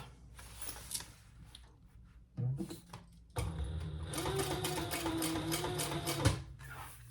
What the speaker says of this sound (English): So let's turn it and top stitch right here.